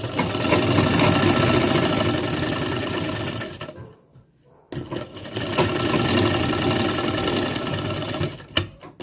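A sewing machine stitching a pocket seam on trousers runs in a loud, continuous mechanical whir, stops briefly for about a second, then starts again and runs on to the end, with no talk.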